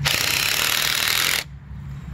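A Ryobi cordless drill drives screws into decking outdoors, a loud, close burst of harsh buzzing and ratcheting for over a second, then cutting off abruptly to quieter background.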